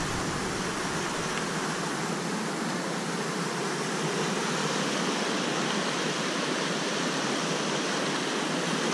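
Flash flood water rushes after a thunderstorm in Prescott, Arizona, a loud, dense, unbroken roar filling the clip close by, with no voices.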